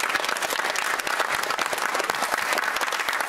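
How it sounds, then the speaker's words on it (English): Studio audience applause on the Countdown game show, a brisk, dense burst of clapping from the crowd, loud and continuous for a few seconds. "An applause for Lennon Ken."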